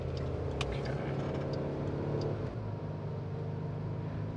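Steady road and engine rumble from a vehicle driving with towing mirror extensions fitted, a continuous low drone with faint rattles and no talk.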